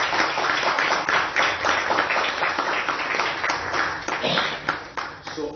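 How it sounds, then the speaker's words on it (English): Sustained applause from an audience at a media event about a transit partnership, dense clapping filling the whole stretch at steady loudness. "can we have a huge round of applause?"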